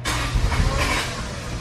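A Honda Civic EG engine with clogged injectors starts and runs with a rough, steady low rumble, loud and close, with slight surges in revving and no voices.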